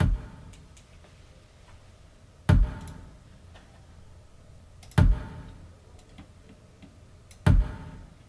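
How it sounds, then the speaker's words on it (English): An Ultrabeat kick drum sample plays alone in a steady pattern, four punchy low thumps spaced evenly about two and a half seconds apart over a faint background. "I'm gonna go to the kick, so so you guys can hear what the kick sound like"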